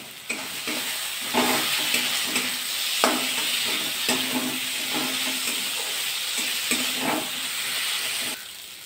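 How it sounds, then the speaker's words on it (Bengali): Potatoes and onions fry in oil in a pan, making a steady, close hiss and sizzle that runs for about eight seconds. Brief scraping stirs break through at intervals, and no one speaks. "আলু লবণ দিয়ে দেবো, পেঁয়াজ ছেড়ে তার একটু ভাজা হয়ে যাবে"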